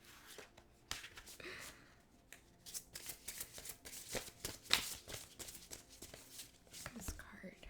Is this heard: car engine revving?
no